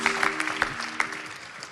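Scattered hand claps from a church congregation, a few sharper bursts standing out, fading toward a light patter.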